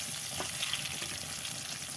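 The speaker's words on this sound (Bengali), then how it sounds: "পটলগুলোকেও আমি এইভাবে একটু উল্টে দিয়ে আমি ভেজে নেব" Pointed gourd pieces turned over in frying oil give a soft, even sizzling hiss with a light clatter as they move, close by and free of speech.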